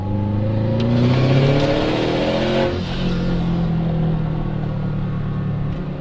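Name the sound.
turbo car accelerating with external wastegate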